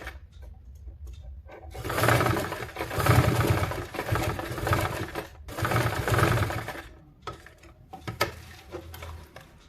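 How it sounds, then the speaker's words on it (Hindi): A sewing machine stitches a double-folded hem on ladies' pants in several close bursts of rapid, whirring mechanical chatter, with short pauses between runs and no talking. "एक फोल्ड इस तरह से करेंगे और दूसरी फोल्ड इस तरह से करेंगे और इस तरह से सिलाई लगाएंगे।"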